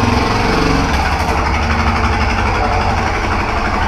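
A Honda XRE motorcycle engine runs loud and close, holding a steady, rough drone for a few seconds without clear revs.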